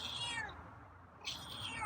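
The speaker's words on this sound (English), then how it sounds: "Got some meows today, huh?" A feral cat lets out two drawn-out meows close by, the first falling in pitch and the second rising after a short pause, fairly quiet with no talking over them.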